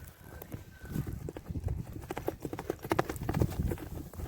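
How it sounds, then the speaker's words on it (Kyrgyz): Horse galloping on open ground in Kyrgyzstan: rapid, rhythmic hoofbeats that grow louder as the animal approaches, fairly faint overall, with no voices. "Аттын жүгүргөнүн дагы бир көрүп коелу."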